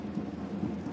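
Rain falls during a J2 League football match between Tochigi SC and Mito Hollyhock, a steady soft hiss with a low rumbling undertone, even and continuous throughout.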